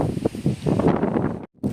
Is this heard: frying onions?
no